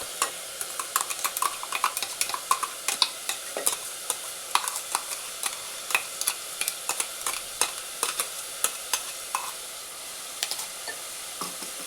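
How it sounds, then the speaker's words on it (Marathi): Onion paste fries in a pan for pav bhaji as tomato paste is stirred in, with a steady close sizzle broken by frequent sharp spoon scrapes and clicks against the pan, no voices. "कांद्याची पेस्ट परतत असताना त्यामध्येच टोमॅटोची पेस्ट आपण ॲड करणार आहोत."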